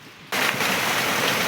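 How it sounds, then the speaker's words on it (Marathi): Heavy rain pours down at a farm, starting abruptly after a moment of quiet and then holding as a loud, dense, steady hiss close by, with no talk. "लय मोठा पाऊस झाला आहे बघा"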